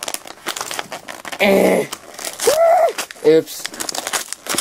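Cut-open cardboard and plastic packaging of a Pokemon lucky box crinkling and rustling close up in quick handled bursts, with a person speaking briefly over it.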